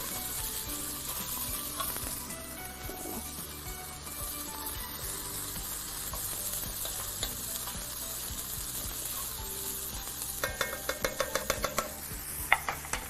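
Mushrooms fry in a hot pan with a constant sizzling hiss, and near the end a quick series of rhythmic scraping and clattering stirring strokes rises above the frying.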